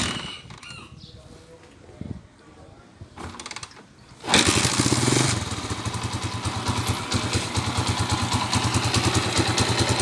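After a few quiet seconds of tinkering, a motorcycle engine fires up and settles into a loud, steady, rapid putter with a slight rasp from a leaking exhaust, running close by until the end.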